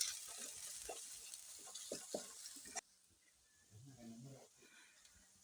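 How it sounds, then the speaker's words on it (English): Salted onions being stirred in a cooking pot over an outdoor village fire, with scraping and sizzling strokes under a nearby voice for the first half, then fainter frying and clinks. "I add salt, then I stir."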